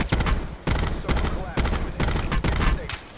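Loud, close gunfire in the Call of Duty Blackout battle royale game, coming as several sharp bursts in quick succession with short gaps between them.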